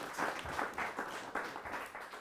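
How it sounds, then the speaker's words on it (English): Audience applause at a rugby club gathering, a steady wash of many hands clapping that swells and eases over a couple of seconds, fairly close and loud with no voices over it. "Let me call for another round of applause."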